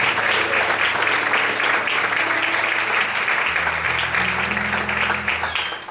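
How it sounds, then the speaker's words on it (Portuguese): A church congregation applauds loudly in dense, continuous clapping that fills the room, with low sustained keyboard or organ tones shifting underneath and the applause tapering slightly at the very end. "Então glorifique e aplauda Ele bem forte em nome de Jesus."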